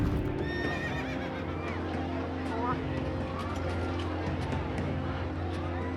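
Horse neighing and galloping with clip-clop hooves at the Epsom races, heard beneath a narrator's continuous voice, steady and moderately loud throughout.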